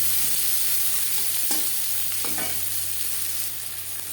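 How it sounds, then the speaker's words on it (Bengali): Chopped onion sizzles in hot oil in a pan for a Bengali silver carp fish curry, a steady, loud hiss with occasional stirring scrapes and no talk. "দিয়ে দেবো পেঁয়াজ কুচি"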